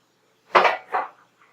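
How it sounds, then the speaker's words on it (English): Ramekins set down inside a deep roasting pan, heard as two close, distinct ceramic-on-metal clunks about half a second apart, then a faint small tap, in an otherwise quiet kitchen. "we're going to set them inside a deep roasting pan or a casserole pan of some sort."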